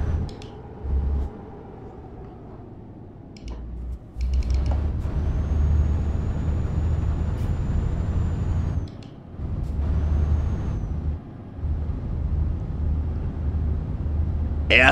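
A heavy truck drives in Euro Truck Simulator 2, its engine droning steadily at highway speed through a curve, with bursts of air-brake hiss and gaps where the engine note drops before picking up again.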